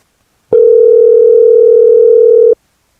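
A telephone dial tone after a call from an institution is cut off, heard as one loud, steady two-second hum that starts and stops abruptly, with silence on either side.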